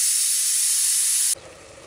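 A pressure cooker holding masala for a quick fish biryani vents steam in a loud, steady hiss that stops abruptly after about a second, leaving quiet kitchen sounds.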